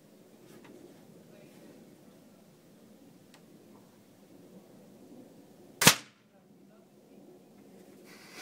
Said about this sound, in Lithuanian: tikras snaiperio šūvis